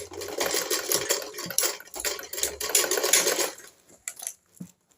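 A sewing machine stitches a blouse sleeve with a lining, running in a steady rapid whir for about four seconds, then stopping with a few faint clicks and handling noises.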